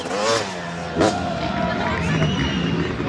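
A crowd cheers in ovation at an outdoor freestyle motocross show, a broad roar of voices with motorcycle engines revving and whining underneath, loud and sustained, with a commentator talking over it.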